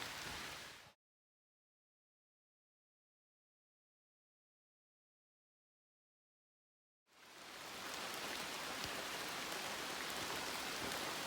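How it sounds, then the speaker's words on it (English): Rain falling on a forest hiking trail makes a steady, dense hiss, heard briefly at the start and again after a long stretch of silence. "Yep, so it's raining."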